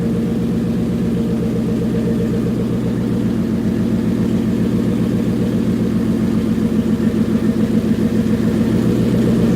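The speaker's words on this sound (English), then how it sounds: "What you're probably hearing coming through the camera is the direct injection pump." A twin-turbo 2019 Mustang GT idles right after its first startup, a loud, steady, close-up engine rumble that holds evenly throughout with no one speaking.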